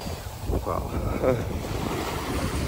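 Sea waves wash onto a beach in a steady broadband roar, with gusty wind buffeting the microphone throughout and no clear individual breaks.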